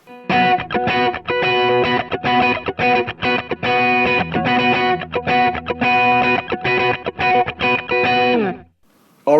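Electric guitar played through a worship pedalboard with a Deco tape saturation and doubler pedal engaged, loud distorted chords strummed in a quick choppy rhythm with short gaps before ringing out alone at the end.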